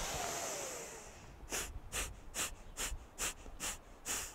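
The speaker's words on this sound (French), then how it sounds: "Donc, cinq coups d'expiration" About eight sharp, forceful breaths pushed out through the nose during a breathing exercise, each one a short hiss at an even rhythm, following a longer, softer exhale.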